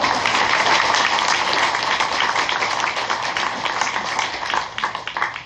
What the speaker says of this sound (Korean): 감사의 박수를 한번